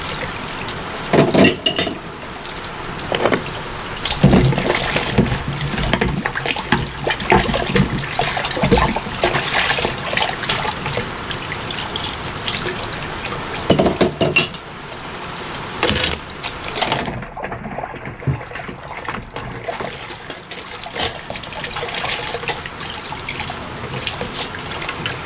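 Plates being washed under running water: the tap flows continuously while dishes clatter and knock in uneven bursts, close by, with no talking.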